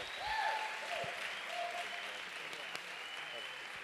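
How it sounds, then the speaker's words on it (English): Church congregation claps for a guest speaker, soft steady applause with a few faint cheers, distant and quiet, while voices carry on over it. "Give a round of applause for Mr."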